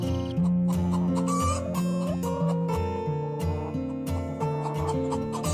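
Chickens clucking and squawking at a poultry farm in a 3D cartoon, over a dense musical backing, the bird calls mixed in and partly masked by the music.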